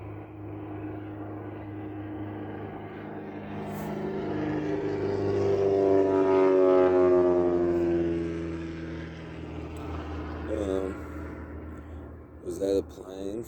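A propeller airplane passes overhead, its engine drone swelling to a loud peak near the middle and then fading away, with a few brief noises near the end.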